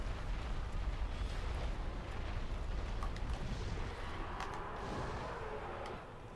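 A Dark Souls fire magic attack, a dense rumbling roar like a burst of flame that holds steady and then eases off slightly, fairly quiet, with a few faint crackles and no voices.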